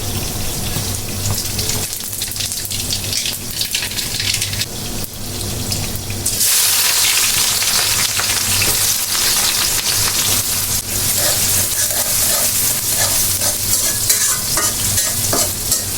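Poa fish frying in a pan with black cumin and cumin, a loud steady sizzle with stirring and scraping that swells louder partway through and keeps crackling to the end.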